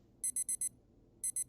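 An alarm from the Doki Doki video game: a quick series of four bright, evenly spaced electronic beeps, a short pause, then more beeps, clear and alone.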